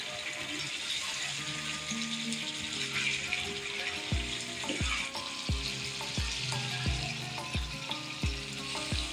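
Lahori restaurant-style chicken karahi fries in a pan with a steady crackling sizzle, under louder background music with regular thumping beats, close and moderately quiet overall.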